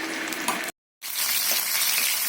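Sankara fish shallow-frying in hot oil, with a loud, close, steady sizzle that breaks off briefly into silence and then resumes.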